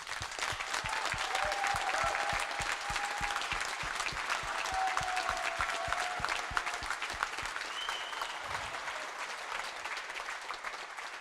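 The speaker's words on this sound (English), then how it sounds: "So therefore, from Team Fast, we would like to give you all a very big applause." Audience applause after a presentation about a hydrogen bus, a dense, even wash of clapping from a sizeable crowd that carries steadily throughout and thins slightly toward the end.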